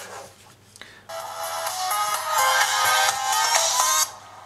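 A GoPro video plays through the loudspeaker of a Cubot P6 phone: after a short pause, bright, tinny music bursts in and holds at a fairly steady level before cutting off near the end.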